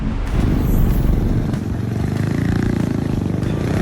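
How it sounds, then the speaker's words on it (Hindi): A motorcycle is ridden round and round in tight circles by a biker, its engine giving a steady, loud, close rumble with some clatter throughout, and no talk. "देखिए जरा कैसे चक्री की तरह ये बाइकर अपनी बाइक को इन 3 घेरों में गोल गोल घुमा रहा है"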